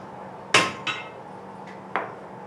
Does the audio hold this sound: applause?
no